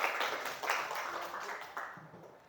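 Classroom applause from a group of students, a dense patter of many hands clapping together for a couple of seconds, gradually thinning and fading out.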